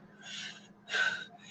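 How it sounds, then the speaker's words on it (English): Two heavy, close breaths in quick succession, a drawn-out exhale followed by a sharper, louder one, over a faint steady low hum. "if you hear me breathing hard"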